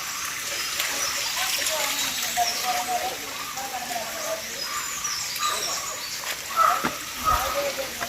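A forest stream running low after little rain trickles and splashes gently in a steady hiss, while people talk over it throughout.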